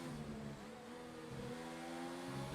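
Formula 1 race car engine in F1 2019 at Abu Dhabi, a continuous high revving whine with gear shifts, rising pitch steps and drops, close and loud with no talk over it.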